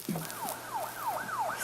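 A wailing emergency siren, ambulance or police, sweeps repeatedly up and down in a steady yelp pattern, moderately distant, over a constant hum of street noise.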